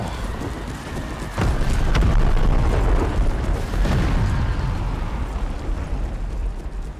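Cannon fire in an Empire: Total War battle: a deep, heavy boom lands early and another follows a little later, each rolling out over a steady noisy din of battle with hoofbeats and clatter beneath.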